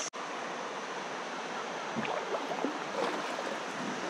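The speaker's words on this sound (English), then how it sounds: "Rapids round two." Jungle river rapids rushing in a steady broadband wash of water, moderately distant and even, with a few faint splashes and gurgles partway through.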